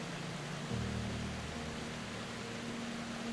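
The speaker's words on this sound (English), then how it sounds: "The water drops about 23 meters and is so voluminous you feel the mist from a quarter-mile away." Rhine Falls in Switzerland, a huge, voluminous waterfall dropping about 23 meters, gives a constant, even roar like dense white noise, with a low rumble underneath and no voices.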